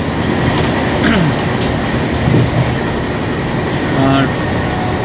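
From inside an AC 2-tier coach of the 12313 Sealdah–New Delhi Rajdhani Express entering Khana Junction comes a loud, continuous rumble with rattles and clicks, and some voices in the background.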